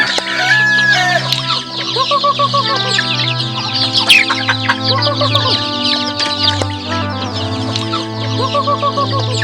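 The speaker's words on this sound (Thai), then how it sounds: "ตัวนี้จะเป็นไก่คล้ายคือกับไก่สามสายพัน" Several chickens cluck and squawk close by in a busy, overlapping chorus, with a low steady hum underneath.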